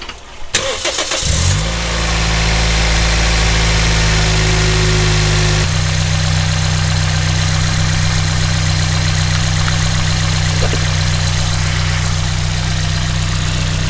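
A car engine cranks and catches after new spark plugs at 150,000 miles, then settles into a loud, steady idle with a low hum that holds for the rest of the clip. No one speaks.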